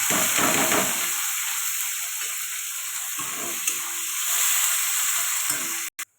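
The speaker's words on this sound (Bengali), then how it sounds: "এবার পেঁয়াজ দিয়ে দেবো" Onions sizzle steadily in hot oil with five-spice tempering in a wok, a loud close crackling hiss that carries on almost unbroken, with faint occasional stirring and no talk.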